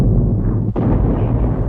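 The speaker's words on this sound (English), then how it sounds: "At 7 in the morning, the bombardment switched to the French lines" German heavy guns bombarding French lines at Verdun in 1916, a loud continuous rumbling barrage of deep booms with one brief dip midway.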